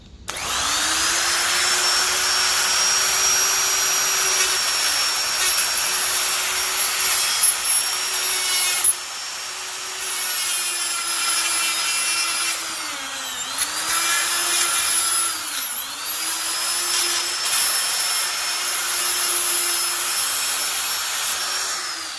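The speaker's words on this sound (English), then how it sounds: "because you're loud, Mr. Die Grinder. And that's a carbide burr, so it grinds through pretty much anything" A loud die grinder with a carbide burr whines steadily as it grinds a knife blade. The pitch dips and recovers several times as the burr bites into the steel, and the harsh scraping continues for over twenty seconds.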